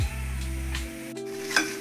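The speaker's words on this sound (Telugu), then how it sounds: "కాకరకాయ ముక్కలు బ్రౌన్ కలర్ వచ్చే వరకు ఫ్రై చేసుకోవాలి." Bitter gourd pieces frying in oil until browned, a steady sizzle with a few brief stirring scrapes against the pan, close and moderately loud.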